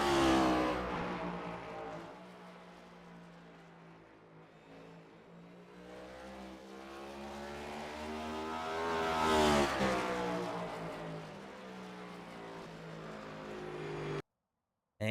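A race car in a racing video game runs a lap, its engine note rising and falling through gear changes and surging loudly near the end before cutting off abruptly. No one speaks.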